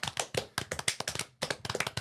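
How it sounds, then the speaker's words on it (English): Clapping for a guest on a podcast, a few pairs of hands tapping out quick, close, irregular claps with a short gap partway through. "Give him a round of applause, please"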